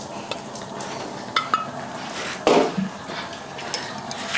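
Sour curd being mixed with fenugreek powder and pepper powder for Kerala pulissery, with soft scraping and clinking of a spoon against a bowl, sporadic and close, with a few louder knocks.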